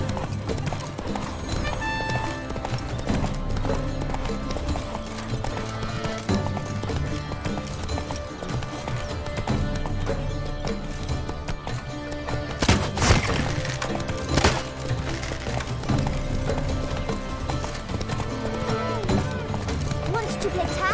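Horse hooves galloping steadily in The Witcher 3: Blood and Wine, a continuous rhythmic clip-clop over game music and ambience, with a couple of louder thumps partway through.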